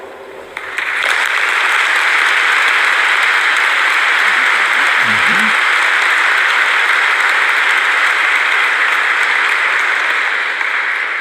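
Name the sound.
applause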